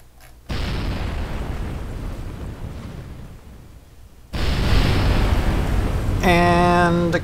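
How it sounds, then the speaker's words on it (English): A loud explosive blast gives way to a sustained roaring rumble, then a second, stronger blast erupts, ending with a brief tonal electronic chime; spacecraft debris crashing in Kerbal Space Program. "Let's, watch the debris crash, first of all."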